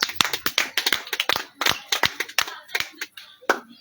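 A church congregation claps in quick, steady rhythm in praise, sharp close hand claps repeating throughout with faint voices underneath.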